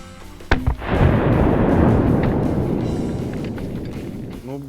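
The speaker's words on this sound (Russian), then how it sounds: "внутрь не ушел, будет гром" A firecracker explodes under 25 cm of ice: a sharp crack followed by a deep, muffled boom and a long rumbling roar that slowly fades, with a voice briefly at the end.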